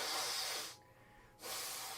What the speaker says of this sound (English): so I'm gonna blow my nose